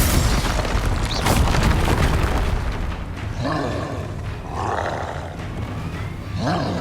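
Confringo blast spell exploding in the video game Hogwarts Legacy: a loud, booming roar that fills the opening seconds, then eases into rumbling battle effects with short voiced bursts.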